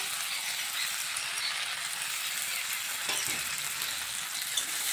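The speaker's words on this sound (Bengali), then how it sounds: "টমেটোটা এটার সাথে কষিয়ে দিচ্ছি।" Tomato fries in a pan with ground coriander, turmeric and red chilli powder, a continuous dense sizzle with faint stirring scrapes, close and steady.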